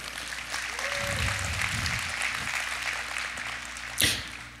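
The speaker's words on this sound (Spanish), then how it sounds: "Denle un fuerte aplauso al Señor." Steady applause fills a church service, a sustained wash of clapping from the congregation with a brief louder burst near the end.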